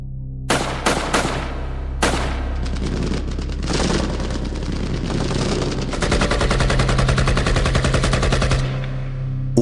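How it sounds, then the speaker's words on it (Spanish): Rapid automatic gunfire bursts out in a zombie audio drama, loud sharp cracks first in separate shots and then in a dense rattling volley that runs for several seconds before stopping abruptly. "Una ráfaga de disparos estalló en la oscuridad"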